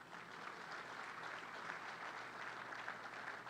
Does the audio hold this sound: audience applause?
yes